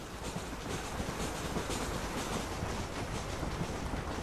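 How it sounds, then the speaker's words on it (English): A train rolls past in the Western video game Red Dead Redemption, a dense, continuous rumble with rhythmic clickety-clack of wheels over rails, steady and fairly loud, with no talking over it. "There's the train."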